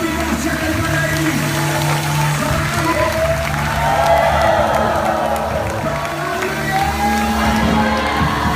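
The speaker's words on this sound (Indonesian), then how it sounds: "Sekali lagi tepuk tangan yang meriah buat Tuhan Yesus" A church congregation applauds loudly and continuously during a sermon, with dense clapping, cheers and whoops filling a large room, and some voices shouting among the crowd.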